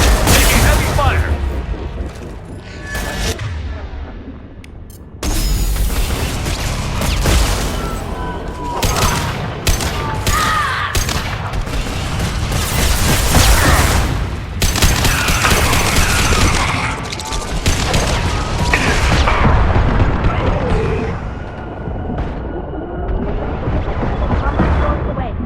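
Heavy gunfire and explosions in the Mass Effect Legendary Edition video game: sustained loud rapid-fire bursts and booms over about twenty-five seconds, dense and close, with voices speaking through the combat.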